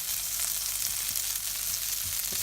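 Chickpea curry base frying in a pan, a steady, close hiss of sizzling oil and spices with faint stirring, continuous throughout.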